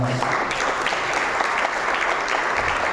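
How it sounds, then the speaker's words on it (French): An audience at a dance performance at the French Institute in Meknes applauds steadily, a dense wash of many hands clapping loud and sustained throughout. "je voudrais quand même vous les présenter et que vous puissiez applaudir chacune"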